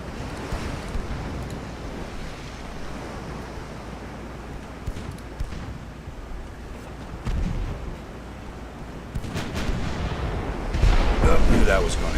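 Warship guns firing in Ultimate Admiral: Dreadnoughts, heavy booming reports rising over a steady wash of sea and wind noise, with the loudest volley near the end and a voice talking underneath.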